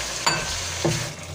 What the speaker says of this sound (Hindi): अब हम इसमें प्याज शामिल करेंगे थोड़ी थोड़ी करके।